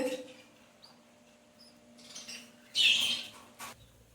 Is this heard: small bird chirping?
yes